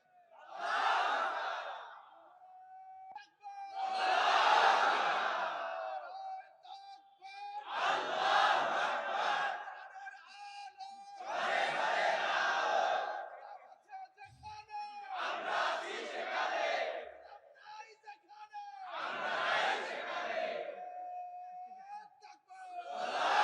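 A crowd at an Islamic religious sermon gathering chants slogans in loud, roaring bursts, about seven rising and falling shouts separated by short pauses.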